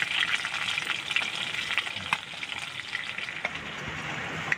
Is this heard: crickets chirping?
no